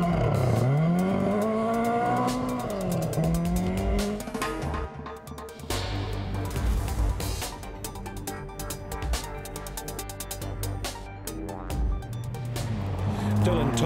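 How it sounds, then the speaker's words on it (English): A Ford Escort rally car roars past on a gravel stage at a New Zealand rally in Canterbury, its engine rising, dropping and rising again through gear changes before fading, loud and close, with commentary at the start. "the familiar sound of the beautiful Escort."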